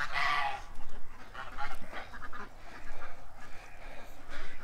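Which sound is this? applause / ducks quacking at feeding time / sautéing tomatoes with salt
ducks quacking at feeding time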